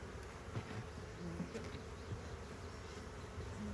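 Honey bees buzz steadily around an opened beehive during a hive inspection, a dense continuous drone of many insects close by with occasional louder passes, and no talking.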